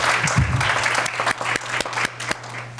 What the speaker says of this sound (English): So one last round of applause for our panel and any clergy and Dee and Kayla.